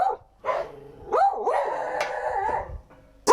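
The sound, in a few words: dog barking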